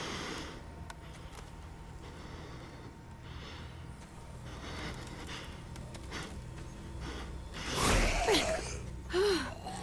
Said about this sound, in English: it's so creepy looking through Clementine's eyes and hearing her breathing